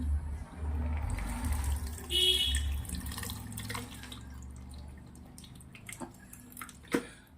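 Fresh coconut water is poured into a mixer jar for a summer juice, giving a close, steady gurgling pour that tapers off into a few soft drips and small knocks.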